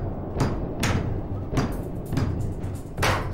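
Someone bangs on the door of a second-floor apartment, a run of about six heavy knocks and thuds at uneven intervals, close and loud with nobody speaking.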